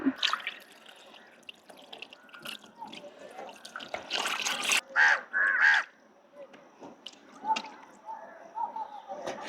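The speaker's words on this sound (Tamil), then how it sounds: "இந்த காகம் இருக்குல்ல காகம் தூக்கிட்டு போயிடும் தூக்கிட்டு போயிடும்" Crows caw a few times at moderate distance during outdoor BBQ chicken grilling, amid outdoor ambience and clinking, dripping sounds, with people talking faintly in the background.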